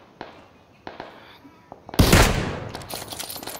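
Several isolated gunshots crack out sharply in a shooter game, followed by a loud, dense burst of overlapping fire that trails off into scattered shots.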